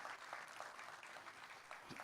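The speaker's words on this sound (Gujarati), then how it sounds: "જરા ધર્મેશભાઈને જોરદાર તાળીઓથી વધાવી." An audience at a tenth-anniversary felicitation event claps to welcome people onto the stage, a faint, distant, steady patter of many hands.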